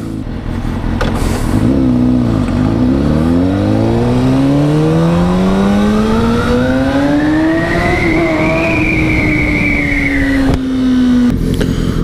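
Loud car engine revving inside a tunnel in a long rising howl that climbs for several seconds, holds high, then eases off, with a booming enclosed echo.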